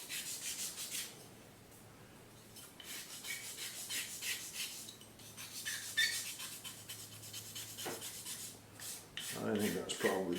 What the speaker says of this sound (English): do a little sanding to round it off